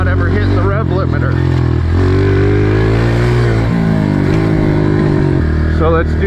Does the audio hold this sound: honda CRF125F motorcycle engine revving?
yes